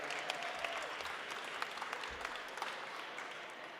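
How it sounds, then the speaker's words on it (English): Steady crowd applause at an outdoor rally in front of a state Capitol, a dense, continuous patter of many hands clapping at moderate volume for the whole stretch, with no talk over it. "Let's give them a round of applause behind me."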